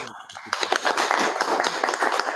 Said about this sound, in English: Give a big round of applause to Toastmaster.